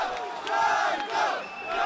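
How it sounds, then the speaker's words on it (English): Pro-Russian crowd cheering at a rally in Kharkiv, Ukraine, as government supporters are thrown out of a building: a dense, loud roar of many voices with rising and falling shouts, continuous throughout. "The pro-Russian crowd cheers as Ukrainian government supporters are literally thrown out of the building."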